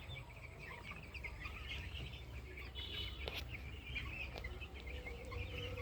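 Cock-breed chickens on a poultry farm, faint scattered clucks and chirps from a flock over a steady low hum of farm machinery, no voices.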